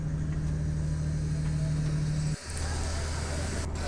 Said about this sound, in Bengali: আমাদের লঞ্চ এইমাত্র এই যে ছেড়ে দিচ্ছে।